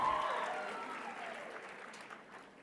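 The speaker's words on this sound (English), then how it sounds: "let's give a round of applause to Anna Maines and Abigail Maines" Applause from an audience at a pageant fills the space, a dense patter of clapping that gradually fades, heard at a moderate distance.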